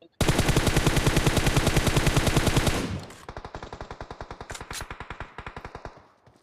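Rapid automatic gunfire in a shooter video game: a loud, dense burst for about three seconds, then a slower string of separate, quieter shots continuing to the end, with no talk.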